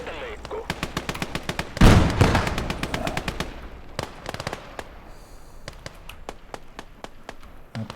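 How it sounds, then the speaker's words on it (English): A 45mm tank gun in a war video game fires a rapid string of sharp, loud blasts, with one heavier boom near the start and steady shots continuing throughout. "What is that? 45mm gun. That's a nice gun."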